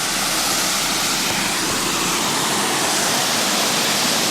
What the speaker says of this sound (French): on s'est installé à côté de cette magnifique cascade. Il fait, comme vous pouvez l'entendre dans la vidéo, énormément de bruit